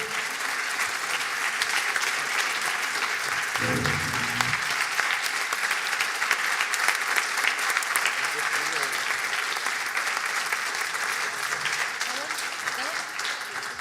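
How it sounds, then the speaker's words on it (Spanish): Theatre-conference audience gives a strong, continuous round of applause for Juan and the other guests, many hands clapping evenly throughout, with a brief low murmur or voice near the middle. "yo os voy a pedir que le deis un fuerte aplauso, además de a Juan, al resto de los invitados"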